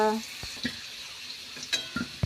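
Fried potatoes stirred and lifted out of a pan, a faint sizzle beneath a few sharp spatula scrapes and metallic clicks, close and sparse.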